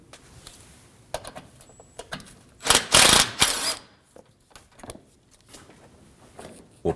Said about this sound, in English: We'll remove the 10mm screw.